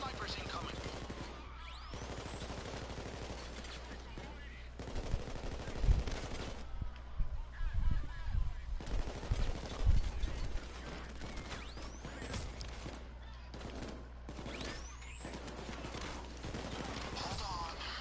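Snipers fire in the video game Payday 2, with bursts of gunfire clustered mid-stretch over steady game ambience and some background voices.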